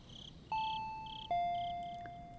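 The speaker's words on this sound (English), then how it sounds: "I went around to the back door and rang the bell" A doorbell at a clinic's back door in the Higurashi visual novel game sounds a clean two-tone ding-dong, two bright chimes that ring out and fade over a quiet background.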